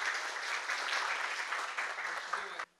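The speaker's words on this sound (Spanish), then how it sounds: "Un fuerte aplauso," A conference audience claps in a dense, steady burst of applause that cuts off abruptly.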